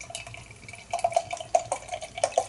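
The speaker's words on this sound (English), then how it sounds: "It's pouring a nice kind of bright goldeny orange colour." Brass Castle Brewery Disruptor, a New England IPA, pours from a bottle into a glass: liquid gurgles with a run of sharp drips and splashes at an uneven rhythm, close by, with no talking.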